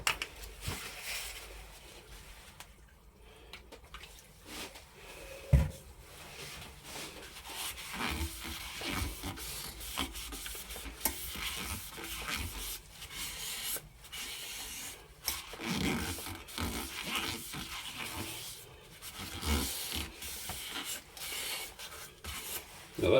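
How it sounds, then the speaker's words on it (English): A cloth dampened with methylated spirits wipes dust from a wooden lidded box with a finial, giving faint, close rubbing and scrubbing strokes in an uneven rhythm, with no talking. "I'm just going to use a little bit of methylated spirits just to take out the dust out of there"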